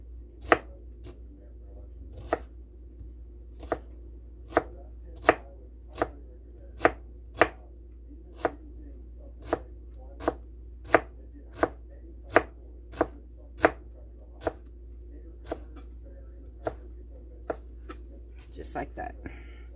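Knife chopping onion on a cutting board, about two dozen sharp, evenly spaced chops close by over a quiet kitchen background.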